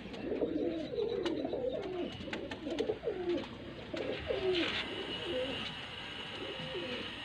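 Pigeons for sale in Faisalabad coo in soft, repeated rolling calls, several overlapping phrases close by, with faint chirps and light background noise throughout.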